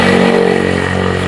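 A steady, close engine drone from mopeds in a Vietnamese courtyard street setting, holding a constant low hum for the whole moment with no clear pass-by swell.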